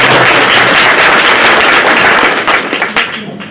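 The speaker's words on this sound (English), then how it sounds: "Big round of applause for Juuso." An audience at a higher-education conference applauds a presenter, with dense, loud, close clapping that thins into scattered claps and fades toward the end.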